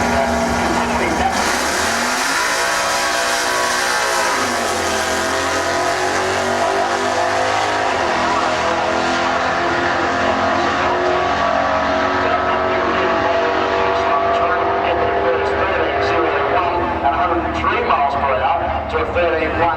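Holden Monaro blasting down a drag strip on a full run, a loud sustained engine roar climbing through gears and fading slightly into the distance, with commentators talking over the noise.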